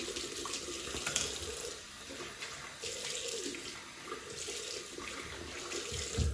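Hot water runs from a sink tap during a wet shave with a Merkur 45 Bakelite safety razor, a steady, fairly quiet gushing stream with small splashy shifts throughout.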